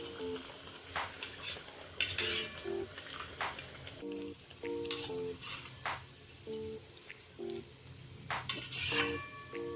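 Fried onion vadas scooped out of hot oil with a metal ladle, scattered close clinks and scrapes against the pan over a soft background bubble, along with a faint recurring musical tone.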